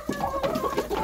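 Hens in a chicken coop give a quick run of close, soft clucks over about a second, several short murmured calls in succession.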